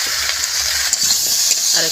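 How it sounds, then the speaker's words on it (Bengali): Spices with turmeric, salt, green chillies and mustard paste sizzle loudly in a pan over a wood-fired clay stove while a spoon stirs and scrapes through them, a close, continuous frying hiss. "আর একটু কষিয়ে নেব।"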